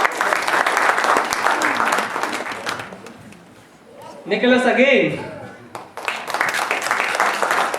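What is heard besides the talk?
round of applause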